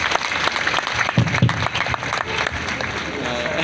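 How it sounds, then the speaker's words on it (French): An audience at a cultural presentation applauds in a thick, continuous wash of clapping, with voices and cheers mixed into the crowd noise. "Merci de la raccompagner par des applaudissements pour ce message."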